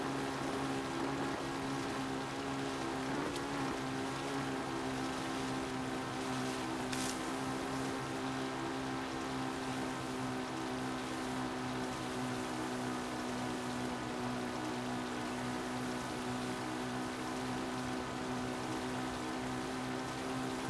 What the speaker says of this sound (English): Link riding a motorbike through the rain, through the Great Plains of Hyrule.